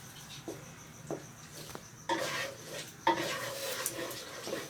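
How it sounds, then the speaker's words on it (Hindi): Ginger garlic paste cooking in a karahi for karahi chicken, giving a steady frying sizzle with scraping stir strokes and clinks of a utensil against the pan, growing louder partway through. "अब हम इसमें अदरक और लहसुन का पेस्ट ऐड करेंगे और मज़ीद 2 मिनट के लिए इसे पकाएंगे"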